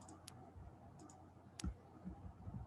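Computer keyboard keys are pressed while designing a business card in Photoshop: a few sparse, sharp clicks and taps, close and fairly quiet, with no talking.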